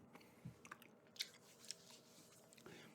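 Gum is chewed close to the microphone in a quiet setting, with soft wet clicks and smacks coming in an irregular rhythm.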